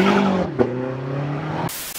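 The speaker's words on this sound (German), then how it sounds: "the sound of the car" A car engine roars steadily at high revs, its pitch holding then shifting, loud and close, before cutting off abruptly into quieter background noise.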